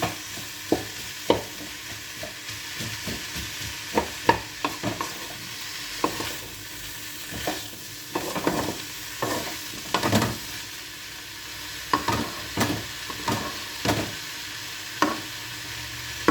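Potato and cauliflower stir-fried with spring onion in a Chinese-style aloo gobhi, a steady close sizzle broken by repeated scraping and clacking strikes of a spatula, alone with no talk.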